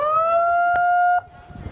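A loud, close siren holds a steady, harmonically rich wail, then cuts off abruptly partway through, leaving low background noise.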